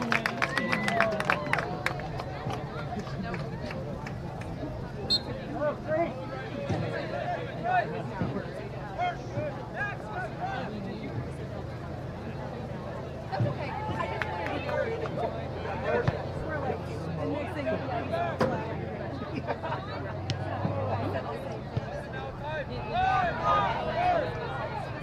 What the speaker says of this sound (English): Pretty nice sized crowd here for a very, very hot and humid night.